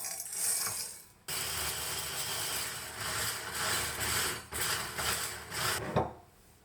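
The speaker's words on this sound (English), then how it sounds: "I want to start and grind my blueberries" A hand grinder crushes dried blueberries in a kitchen, giving a steady grinding and rattling churn broken by brief pauses and a few clicks, close and moderately quiet with no speech.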